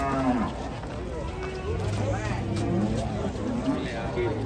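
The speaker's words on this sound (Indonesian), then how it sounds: "Banyak sapi goyang di sini." Large cattle being unloaded from a truck moo repeatedly, several low drawn-out calls overlapping amid a noisy crowd of people talking nearby.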